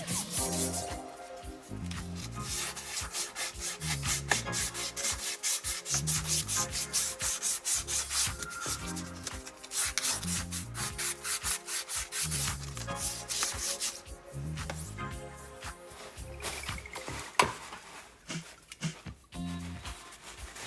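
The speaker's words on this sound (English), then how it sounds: "Just cleaning it up with a bit of brake and carb cleaner" A metal wheel hub from a 1960 Jaguar XK150 is wiped clean with brake and carb cleaner, making soft, close rubbing and scrubbing strokes in irregular bursts with brief pauses.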